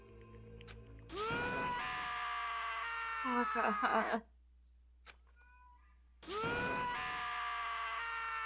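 Taka, a character in the video game Danganronpa: Trigger Happy Havoc, screams sadly in two long, loud, wailing bursts split by a few seconds of near silence, with a faint click in the gap.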